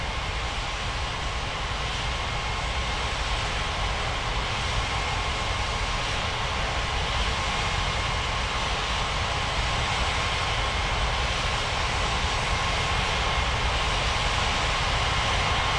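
Jet engines of airliners taxiing at Ngurah Rai Bali International airport in the game Unmatched Air Traffic Control, heard as a steady, loud, unbroken roar and whine with a faint high tone held throughout.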